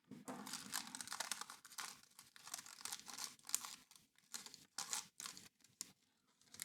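Scissors snip away excess paper from a sewing pattern for a doll top, close and quiet, in a quick series of short crisp cuts and rustles with brief pauses.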